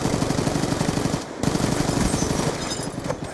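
Rapid automatic gunfire in a Black Ops 2 gunfight, a loud continuous stream of shots with one brief pause before the firing resumes, close and dense with no talking.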